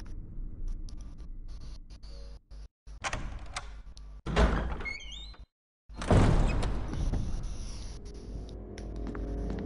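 Door sounds from the Resident Evil 1 video game: creaks and heavy thunks as a door opens and shuts, separated by silent gaps and ending in a loud low rumble that fades.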